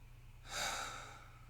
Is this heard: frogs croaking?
no